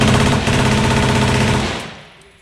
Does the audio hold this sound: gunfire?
yes